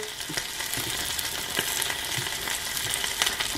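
Chicken wings sizzle steadily on a Dash mini grill, a dense, even crackle of fat and juices with small pops scattered through, close and continuous with no voices.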